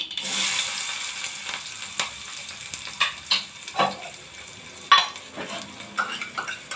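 Onion frying in a pan with mustard seeds and cumin sizzles steadily while a spoon stirs, with repeated scraping strokes and sharp metal clinks close by.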